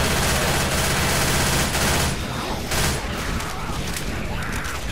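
Rapid gunfire rattles in Left 4 Dead 2, loud and continuous bursts dominating the first two seconds, then thinner scattered shots and clatter continue beneath the game's din.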